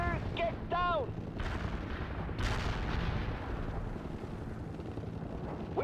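Artillery and gunfire in the war game World in Conflict: a dense, continuous battle rumble broken by heavier blasts near the start and middle, with a brief radio-like voice early on.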